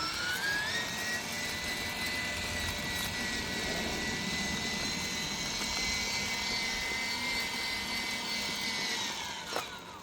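A Traxxas Bandit RC car on a 3S battery runs in 2-wheel drive, its steady high electric whine droning loud and continuous, with a brief sharper burst near the end.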